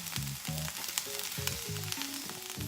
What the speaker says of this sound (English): it's time for you to flip your mushrooms. And then you're gonna let it cook for a minute on the other side.